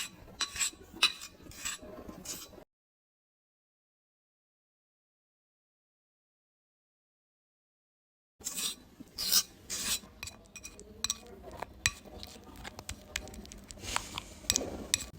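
Texture paste being mixed by hand for a small canvas painting, giving scraping and rasping strokes with light clinks of a tool against a container, close and fairly quiet, stopping for a silent stretch midway before resuming.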